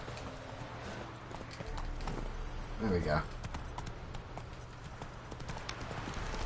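Rhythmic clip-clop of a horse's hooves galloping in the video game The Witcher 3: Wild Hunt, with a brief whinny midway, heard under someone talking.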